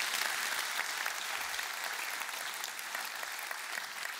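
Live show audience giving a big round of applause for guitarist Christer Mellåker, sustained even clapping heard from a distance and fairly faint.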